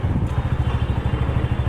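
Motorcycle engine running steadily nearby at a low, pulsing rumble, with even throbbing beats throughout and faint wind noise on top.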